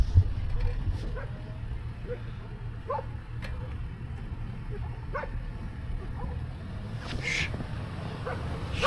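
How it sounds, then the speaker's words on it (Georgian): Big dogs bark and yip at a moving vehicle as they run toward it, the barks fairly distant and intermittent over a constant low engine rumble, with people talking inside the vehicle. "შენი დედა რამ ხელა ძაღლი მორბის"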